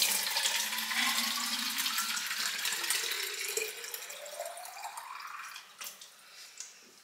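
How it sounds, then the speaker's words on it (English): Water runs from a tap into a bottle, a steady hissing gush with a rising pitch as the bottle fills, then a few small splashes and clinks at the end. "fill me bottle up."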